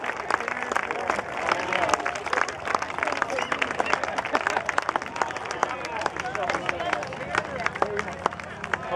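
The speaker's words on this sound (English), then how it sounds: "Give them a round of applause, ladies and gentlemen." Crowd at a Florida HOG motorcycle rally's opening ceremony claps and cheers in a dense, steady wave, with voices and chatter mixed through the applause.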